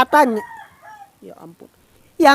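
A chicken in the 2004 film Frankenfish gives a harsh squawk at the start, followed by softer clucking noises, then another loud squawk at the end.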